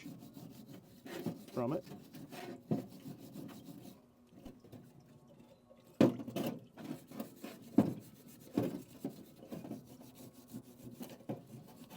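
Quiet, uneven scrubbing and rubbing while outboard motor lower unit parts are cleaned by hand, with short rasping strokes, pauses and a few sharper knocks close by.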